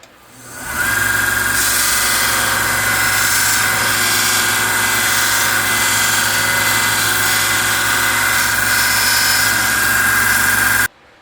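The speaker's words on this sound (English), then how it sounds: "I'm running through the fine grit now" A 1x30 belt sander runs steadily with a fine grit conditioning belt on rusty old tools, a continuous loud whirring drone with a motor hum that starts up within the first second and holds steady throughout, no talking.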